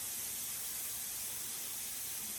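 Organic chicken livers fry in a pan with a steady, loud broadband sizzle and hiss, continuous and unbroken, with no voices over it.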